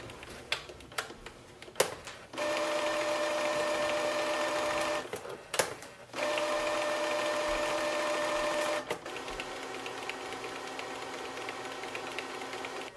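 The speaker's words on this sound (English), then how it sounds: "we just have to wait for the cleaning to done" A Canon Pixma TR150 printer running a printhead cleaning cycle: a few sharp clicks, then long mechanical whirring stretches separated by brief pauses and clunks, followed by a quieter hum, all near and with no voices.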